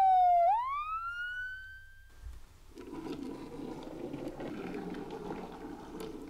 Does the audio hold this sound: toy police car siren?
yes